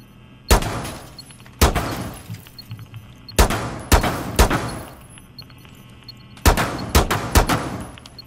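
Gunfire in Rainbow Six Siege, heard as loud, sharp shots fired in short bursts of two or three with brief gaps between them. No voices are present.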